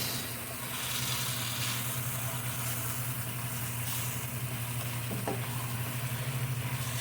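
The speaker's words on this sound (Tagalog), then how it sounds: "Mix natin ng maayos." Chicken feet and potatoes sizzle in a pan while being stirred, a steady frying hiss with faint scraping and occasional clinks, alone and close.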